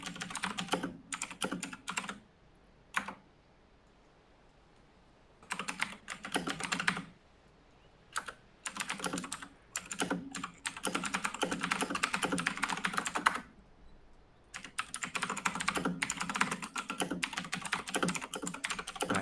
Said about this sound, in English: typing away furiously to get Cheesehead